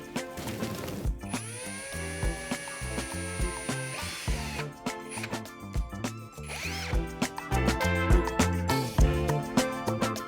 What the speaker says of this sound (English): this is a size 8 drill bit